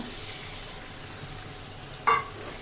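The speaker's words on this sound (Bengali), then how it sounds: "আগে মাছের মাথাটাকে হালকা করে ভেজে নিই" A fish head frying in hot oil with cumin gives a steady, close hiss of sizzling, with a brief louder spatter and clatter near the end.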